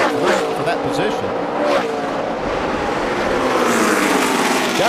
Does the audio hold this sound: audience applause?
no